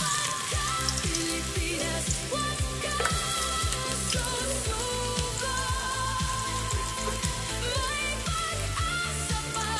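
Garlic frying in a hot pan gives a dense, steady sizzle for the whole stretch, with a faint pulsing tonal background underneath.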